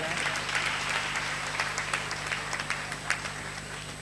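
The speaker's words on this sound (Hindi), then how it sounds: "जोरदार ताली बजाएं।" An audience claps at a lamp-lighting ceremony, a moderate, fairly steady round of applause with a low hum underneath and a few louder individual claps standing out.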